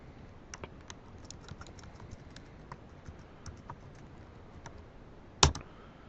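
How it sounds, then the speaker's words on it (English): Light, quick keystrokes on a computer keyboard as a search term is entered, close and fairly faint, ending with one sharper, louder key press near the end. "in the search bar right here, type in Galliup"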